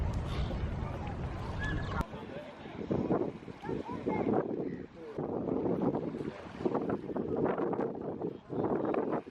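Strong, hot gusts of wind buffet the microphone in rumbling waves, rising and falling throughout, with a faint voice briefly audible under the roar.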